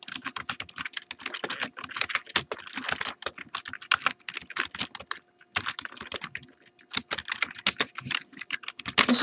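Rapid, continuous clacking on a computer keyboard while code is entered, with dense, close keystrokes broken by a brief pause partway through, and no voices.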